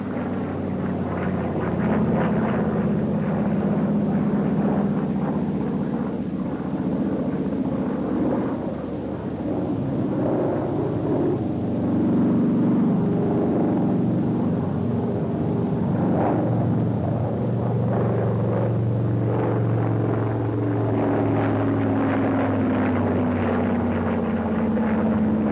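A Brewster Buffalo fighter plane flying a wing over maneuver from a starting speed of 173 knots, its engine making a steady, loud, continuous drone. The pitch and tone shift slowly as the aircraft banks, and there is no talking.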